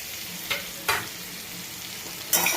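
Green chili, turmeric and ground coriander-cumin fry in a pan for a sour fish dish, giving a steady sizzle broken by three sharp bursts of crackle.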